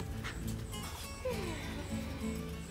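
Dog on a rural smallholding giving short barks and thin whimpering yips, fairly faint and close, mixed with brief bits of nearby talk.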